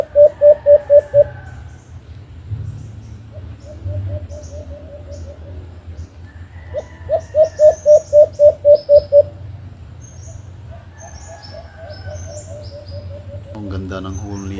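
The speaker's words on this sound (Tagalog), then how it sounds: "Maganda pakinggan yung huni ng sunsun" A sunsun dove calls in rapid repeated bursts of short, even notes, two separate runs, with fainter bird chirps and background murmur between.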